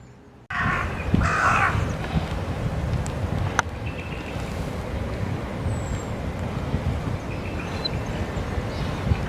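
A black corvid about 50 centimetres long, similar to a crow or young rook, gives a few calls outdoors over steady wind and ambient noise.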